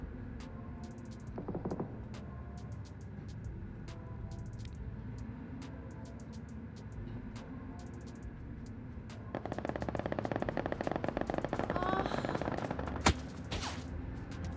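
Rapid bursts of gunfire in PUBG crackle over a steady background hum, growing denser and louder in the second half with a sharp blast near the end.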